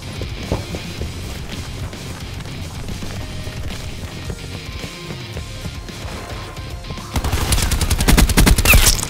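Gunfire in a Call of Duty: Black Ops 4 team deathmatch, with dense, continuous shots and crashes that build into a loud, rapid burst of automatic fire near the end.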